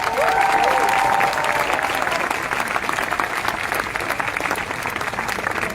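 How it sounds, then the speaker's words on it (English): A large outdoor crowd at an animal rights march claps steadily for the organisers, a dense wash of applause that eases slightly over time, with a brief whistle near the start. "can we have a huge clap"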